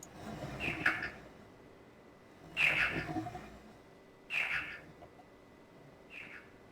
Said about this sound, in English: it sounds like some sort of bird thing